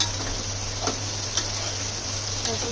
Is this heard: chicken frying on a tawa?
yes